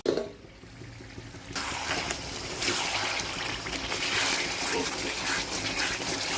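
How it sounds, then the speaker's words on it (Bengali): Water splashes and runs steadily while rinsing out a bowl that held ground coriander paste in a home kitchen, a brief quieter start giving way to continuous close-up rushing and sloshing. "ধনে পাতা বাটাটা পুরো বাটিটা ধুয়ে দেবে।"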